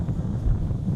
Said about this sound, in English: I hope you can hear me because the wind is pretty strong